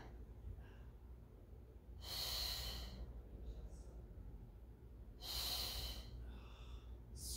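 Two strong, breathy exhales during a Pilates mat exercise in a side-lying lift, each lasting about a second and spaced a few seconds apart, close and clear over a low background hum.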